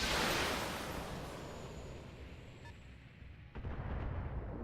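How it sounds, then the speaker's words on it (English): Missile fire in the BattleTech video game: a loud, rumbling launch roar that fades slowly, then a second sharp burst of booming fire near the end, with no talking. "A couple of missiles, not anything particularly exciting."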